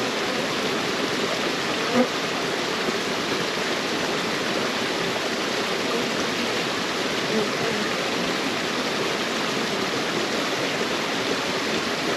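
Honey bees in an apiary during October beekeeping work give off a dense, steady buzzing hum that fills the whole stretch without pause, close and even in loudness.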